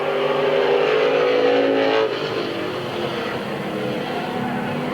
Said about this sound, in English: Andy Friley takes his car to the pits.